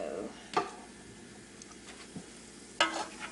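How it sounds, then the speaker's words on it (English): Two tablespoons of garlic hit hot sesame oil in a pan, giving a faint, soft sizzle. Two sharper clatters of stirring stand out against the quiet frying. "Once it gets hot, we'll add our 2 tablespoons of garlic"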